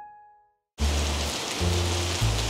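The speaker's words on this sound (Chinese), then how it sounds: "太扯了，今天下大雨" Heavy rain pours steadily outside at a seaside campsite in Yilan, a dense, loud hiss after a brief quiet start, with low rumbling underneath.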